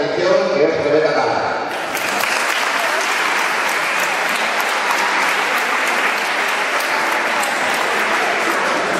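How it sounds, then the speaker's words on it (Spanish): At a sports festival presentation in Colunga, a brief spoken introduction gives way to loud, dense, sustained applause from the crowd. "Un aplauso también, por favor,"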